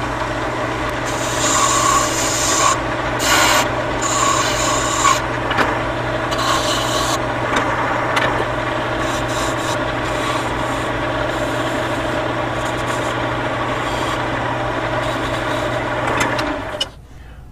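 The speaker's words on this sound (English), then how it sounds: "I am going to use this skew as a scraper." Skew chisel held flat as a scraper against spinning wood on a lathe while turning an ice cream cone Christmas ornament, a continuous loud rasping scrape over motor hum, with brief pauses early on before it stops near the end.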